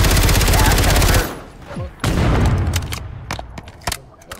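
Revolver gunshots in the Call of Duty Modern Warfare III video game: a dense rattling burst of fire at first, then a few sharp separate shots ringing out over game ambience.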